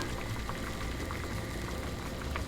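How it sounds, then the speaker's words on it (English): Tofu hamburger sauce simmers in a pan over medium heat, giving a steady, soft bubbling and crackle that runs continuously at low volume with no other sounds. "Let everything simmer over medium heat for about 5 minutes."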